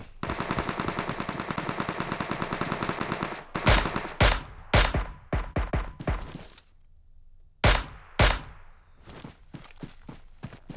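Suppressed gunshots in PUBG Mobile, a rapid automatic burst followed by separate loud single shots and short clusters, close and sharp, with no talking.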